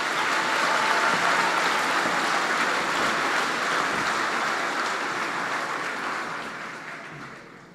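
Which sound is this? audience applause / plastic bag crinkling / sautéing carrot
audience applause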